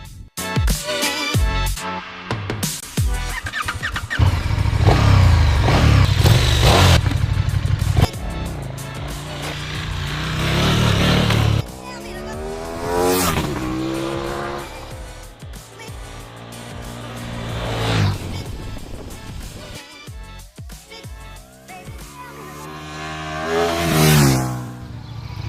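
A KTM 1290 Super Duke motorcycle rides through English countryside streets, its engine revving and shifting through gears with rising and falling pitch sweeps, loud and close, with a faster pass building near the end.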